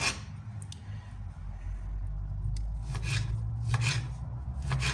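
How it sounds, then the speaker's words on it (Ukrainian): Tomatoes being cut with a knife for a salad: a handful of crisp blade knocks on the board, spaced a fraction of a second apart, over a low steady room hum. "І так, наші помідорчики ріжемо до кінця."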